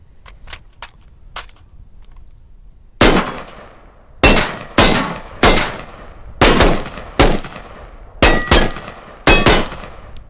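Rifle gunfire in the military shooter Squad after a magazine reload: a few light clicks, then a run of loud, sharp single shots spaced roughly half a second to a second apart, each with a ringing decay, no talk.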